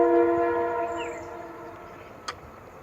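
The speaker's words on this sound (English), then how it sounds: "You see this train sound?" A train horn blares with a strong, steady harmonic chord that fades gradually over a few seconds, ending with a brief sharp click; no one speaks.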